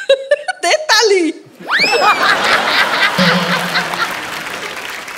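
Studio audience on a TV comedy show breaks into applause and laughter after voices mimic exaggerated laughing sounds, the clapping then continuing as a steady wash with a brief low tone partway through.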